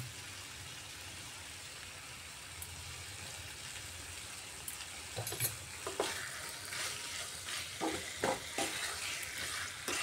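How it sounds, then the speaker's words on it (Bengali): Diced potatoes with salt and spices being sautéed in a pan, a faint low sizzle that grows into louder scraping stirs and clatter of a spatula in the last few seconds, no voices. "এভাবে আলুর সাথে মশলাটাকে আমি ভালো করে কষিয়ে নিচ্ছি"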